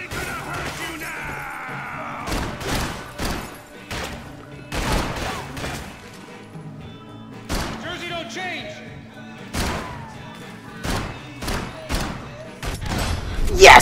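Gunfire erupts in the video game Max Payne as a string of sharp, loud shots and impacts at irregular intervals, mixed with game sounds and voices.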